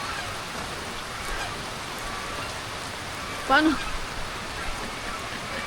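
Heavy rain pours steadily over a field where crops are being planted, a dense hiss of drops on surfaces throughout, with a brief spoken word midway.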